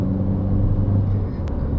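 A VW Gol 1.6 car drives, its engine a loud, low, steady rumble heard from inside, easing off slightly toward the end.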